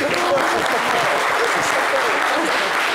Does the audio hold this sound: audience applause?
yes